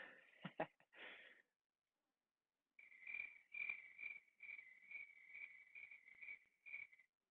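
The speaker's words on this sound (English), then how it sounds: "it got crickets only because that's the only sound effect we had ready" A cricket chirping sound effect plays on a talk show, a faint, thin, high trilling in short pulses, first a brief burst and then, after a pause, a steady run of evenly spaced chirps heard alone.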